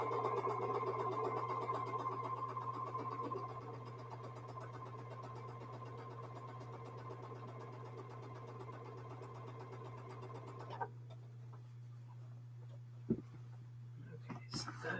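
A sewing machine stitches a jelly roll quilt seam with a steady motor whir over a low constant hum, running for most of the stretch before stopping, followed by quiet handling clicks.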